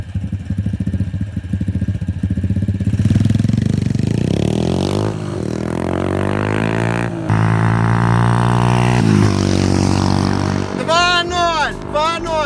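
Lifan and TTR dirt bikes racing, engines revving hard and shifting with rising and falling pitch, loud and close, plus a sudden clattering scrape and a voice shouting over the din.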